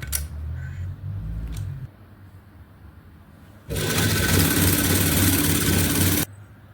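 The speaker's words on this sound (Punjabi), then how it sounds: "ਸਿਰਫ ਕੱਲੀ ਲਾਈਨਿੰਗ ਨੂੰ ਸਲਾਈ ਲਗਾ ਲੈਣੀ ਹੈ" A sewing machine stitches the lining of an umbrella frock in two close bursts: a short low-pitched run, a pause, then a longer, louder, buzzing stretch that stops abruptly.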